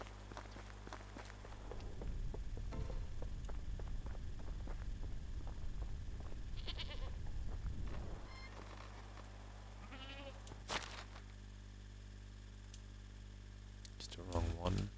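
A female goat in the medieval farming game Medieval Dynasty gives a few short, nasal bleats late on, set against a steady game ambience after an earlier stretch of busier rustling movement.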